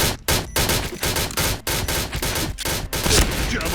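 Rapid, continuous gunfire in the Point Blank shooter game, a dense barrage of loud close shots with a few brief gaps, while players talk over it.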